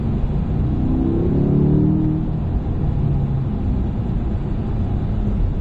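A car speeding up during a driving lesson, the engine giving a loud, close, continuous low rumble with a rising tone in the first couple of seconds that then settles into a steady drone, with no voices.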